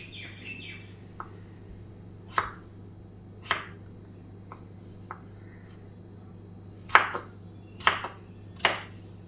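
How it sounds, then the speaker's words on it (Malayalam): Sharp knife strikes on a cutting board chopping potatoes, irregular and spaced out, several coming in a quicker cluster near the end, over a low steady hum. "ഇത് വലിപ്പത്തിൽ നമുക്കിതെല്ലാം കട്ട് ചെയ്ത് കൊണ്ടുവരാം"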